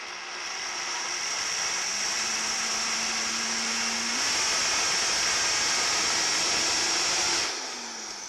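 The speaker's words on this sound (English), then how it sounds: "Now we're going to put them in the blender and blend them until they're smooth." A blender whirs steadily while puréeing split peas and onions until smooth, a loud, close motor whine that shifts pitch partway through as the mixture loosens, then winds down near the end, with no talking.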